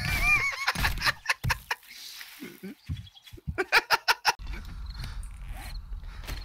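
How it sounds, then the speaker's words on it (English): Chicken clucking in a video game, a run of short sharp clucks in quick bursts, fairly near and loud, with background game ambience and no talk over it. "Look at this chicken here."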